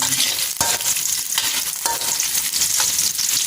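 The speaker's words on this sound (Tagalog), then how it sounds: "nagigisa na tayo ng sibuyas at bawang" Onion and garlic sauté in a hot pan for pancit bato, a steady loud sizzle with stirring scrapes and a few sharp utensil knocks against the pan, with no talking.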